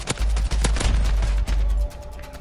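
The Oden rifle fires in Call of Duty: Modern Warfare, four heavy, booming shots in close succession with deep low thumps, loud and near, followed by a short fading tail.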